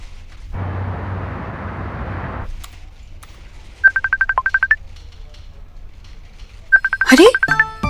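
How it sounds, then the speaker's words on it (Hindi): A short hiss of noise, then two bursts of an electronic phone ringtone playing through a computer, rapid trilling beeps repeating, the second joined by a rising whistle-like tone. "फोन कंप्यूटर पे कैसे आ रहा है?"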